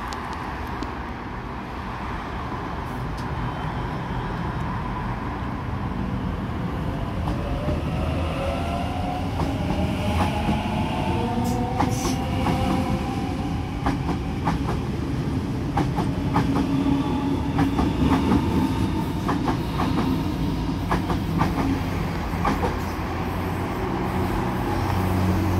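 An A21 Penrith service train pulls out of platform 1 at a station, a steady loud rumble with wheel clatter, rising whines and occasional clicks, no talking.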